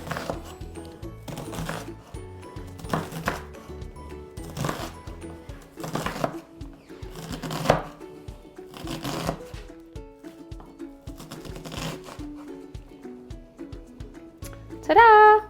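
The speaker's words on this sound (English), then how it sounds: "it's really easy to just slice it this way and you have little tiny chunks" A knife chops cauliflower into tiny chunks on a cutting board, striking in a regular, close rhythm of sharp strokes with short pauses between them.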